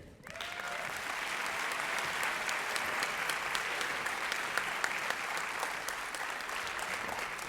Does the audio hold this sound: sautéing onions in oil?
no